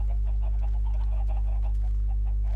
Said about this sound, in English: My little chicken coop with lots of chickens.